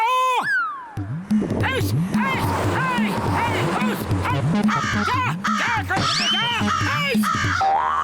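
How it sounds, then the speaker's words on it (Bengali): Cartoon crows caw in a loud, dense chorus of rhythmic, repeated calls after a falling whistle-like effect, with voices speaking over them. "এত কাকের আওয়াজ কেন আসছে গো?"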